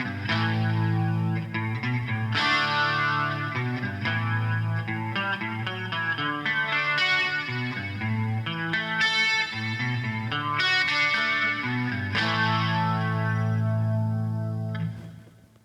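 Clean-tone electric guitar plays a song's intro, steady chords and arpeggiated notes ringing with a shimmering chorus effect, loud and continuous, fading at the end.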